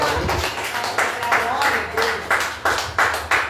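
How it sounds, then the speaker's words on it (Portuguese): A church congregation claps in praise to the Lord during a service, the claps rising to a loud, rhythmic burst near the end while voices carry on underneath. "uma salva de palmas para o Senhor"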